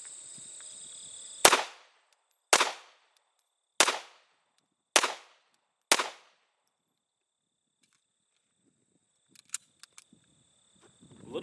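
Five sharp handgun shots fired at a target at an indoor or outdoor range from about 12 to 15 feet, evenly spaced about a second apart and loud and close, followed by faint clicks and small handling sounds.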